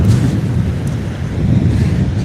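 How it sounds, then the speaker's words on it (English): Strong wind gusts buffet the microphone at sea during kayak fishing, a loud rough low roar that surges and dips with no voices. "That's it, get windy now."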